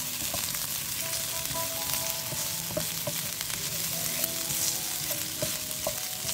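Chopped ginger sizzles in hot cooking oil in a pan at the start of a Filipino fish-with-tausi dish. A steady, close crackle runs throughout with small pops and spatters, and no talking.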